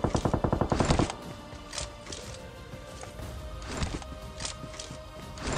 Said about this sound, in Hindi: ऊपर देखो भाई फायर होने लग जाता है